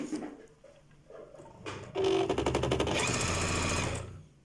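An Elna 7000 sewing machine starts stitching after quiet handling noises, its needle running in a fast, steady mechanical rattle that speeds up and stays loud and close until the end.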